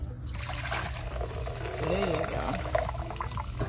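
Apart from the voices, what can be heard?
root beer poured into a bowl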